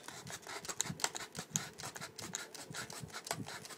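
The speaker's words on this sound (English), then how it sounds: "I'm actually sawing this thing open from this" A multi-tool saw rasps through plastic packaging for a Pelican Game Boy Advance SP recharger, giving a steady close-up run of scraping, grinding strokes with small clicks and no talk over it.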